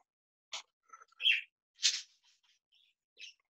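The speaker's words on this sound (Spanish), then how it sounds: "El profe tiene una música ahí de aves para volver los locos" Recorded bird song plays faintly in the background of a classroom, with scattered chirps and tweets separated by quiet gaps.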